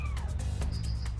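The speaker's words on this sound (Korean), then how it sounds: "가까이 다가가니 고양이 울음소리가 더 선명하게 들리는데요" Muffled, plaintive meowing from a kitten stuck behind a wall: two or three quick, close calls in a short burst with no talk.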